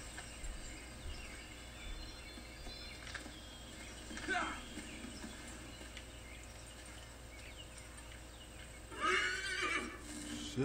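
A horse in the Assassin's Creed 3 video game gives a couple of faint whinnies over a quiet outdoor ambience with insects and occasional hoof sounds.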